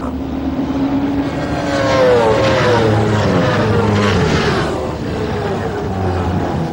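A steady, loud engine drone with rising and falling whine fills the air, like racing motorcycles circling a track at a distance, including a privately entered Kawasaki among factory bikes at the 24 Hours of Le Mans endurance race.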